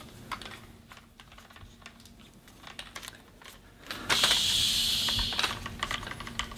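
A mechanical hiss of air releasing as an air-cushioned Manfrotto LED light stand column slides down, starting partway through after quiet clicking and handling noises, close by.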